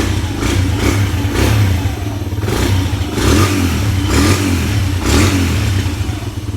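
A Suzuki DRZ125 dirt bike runs just after a kick start, its single-cylinder engine loud and near, repeatedly blipping and revving in rhythmic surges over a rough idle.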